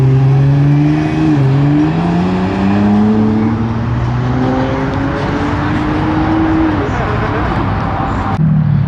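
A Lamborghini Revuelto rolls out at a car meet, its engine a loud close drone with shifting pitch sweeps as it pulls away, crowd voices talking over it.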